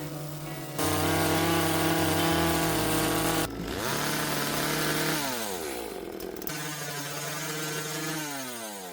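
A chainsaw carving puffins from a raw log, running loud and steady with pitch shifts as the engine revs up and down against the wood. No voices.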